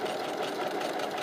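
Sewing machine stitching quilting lines through fabric, a steady, fast mechanical whir heard close and alone.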